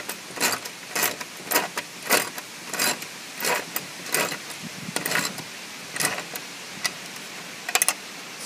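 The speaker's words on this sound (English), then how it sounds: "So I'm just going to go ahead and ratchet that down." A ratchet wrench tightens the bolts of a solar panel mount on a travel trailer roof, giving a steady series of close, crisp clicking bursts in a regular rhythm, roughly two per second.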